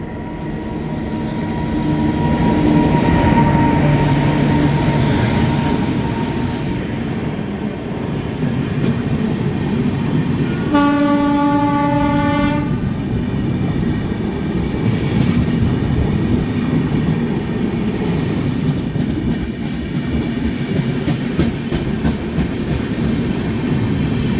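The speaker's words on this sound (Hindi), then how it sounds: "ये गई सिकंदराबाद राजधानी।" Secunderabad Rajdhani Express moving slowly past during an overtake, a steady close rumble of rolling cars with a brief tonal horn-like hoot midway, continuous to the end without speech.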